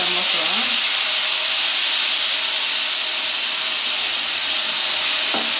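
Ground tomato paste frying in a pan gives off a loud, continuous sizzle and hiss with steam, while a spoon stirs briefly at the start and near the end.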